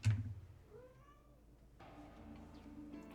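A cat in the video game Virtue's Last Reward gives one short, soft meow over a quiet background, followed by a low, steady game tone.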